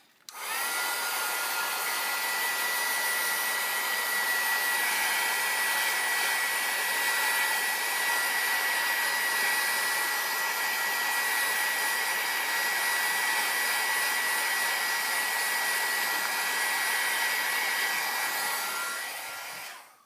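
A handheld hair dryer blows steadily to dry paint on an index card, a constant, close airy whir that starts abruptly, holds unchanged for about twenty seconds, then cuts off.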